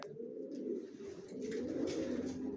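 Young racer pigeons, a male and female pair, give a steady low cooing drone that swells and continues throughout, close and fairly loud.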